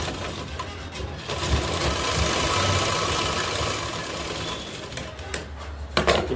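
A sewing machine runs a steady, continuous stitch along a kurti seam, sewing double stitching at the shoulder join, fairly close and alone, with brief clatters as it starts and stops.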